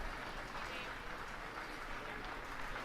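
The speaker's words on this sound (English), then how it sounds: "Some nice applause from the crowd here" Crowd at a curling match applauding a hard-earned victory, a faint, steady patter of clapping held at a distance throughout.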